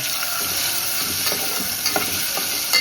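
Masala paste for a wild-vegetable kevla amti frying in oil while being stirred, a steady soft sizzle broken by a few light scraping clinks of the spoon against the pan.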